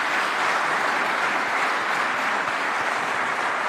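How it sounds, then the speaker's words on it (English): Steady, dense applause from an audience at the SD Worx cycling team presentation in 2023 fills the whole moment as an even roar of many hands clapping together. "I'm sure you'll get a round of applause, ladies and gentlemen, for this sprint team"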